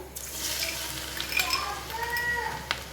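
Three tablespoons of coarsely crushed garlic sizzling in hot oil with the heat turned off, a continuous crackling fry under the clink and scrape of a spoon stirring close by.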